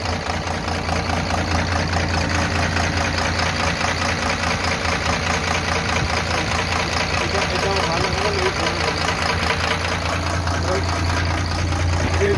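Tata 4018 truck with a 24-valve diesel engine idling after a main and big-end bearing and oil pump rebuild, a steady close low rumble with a rhythmic knocking chatter, under a voice talking.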